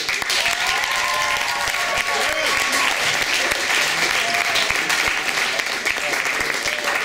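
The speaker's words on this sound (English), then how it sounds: "Let's give Sam another round of applause" Applause from a comedy club audience for a stand-up comedian, loud and sustained clapping with occasional cheers filling the room at an even level, a few sharper individual claps standing out near the mic.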